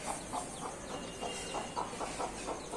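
A rooster clucks softly in a quick, steady series of short notes, faint and somewhat distant against a hissy background.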